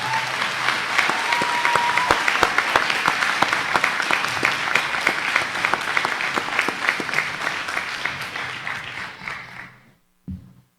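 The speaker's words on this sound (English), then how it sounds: "Can we all give them a round of applause," Audience applause at a 2019 school graduation ceremony honoring the graduates: a large crowd claps loudly and continuously for about ten seconds before it fades and dies away, with a few faint sounds at the end.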